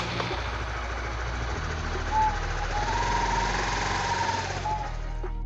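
A Honda Sonic 150R motorcycle engine idling close by, a steady low knocking thrum with faint mechanical ticking throughout.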